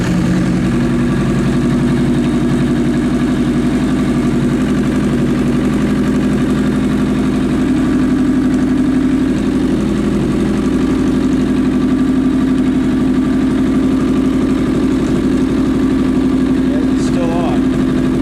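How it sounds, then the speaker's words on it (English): A Suzuki Bandit 1200 motorcycle engine idles loudly and close for the whole stretch, a constant even rumble with a faint higher rattle near the end. "Let me try starting a bike here."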